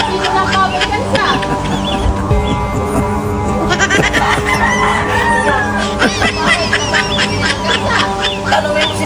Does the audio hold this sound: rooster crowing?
yes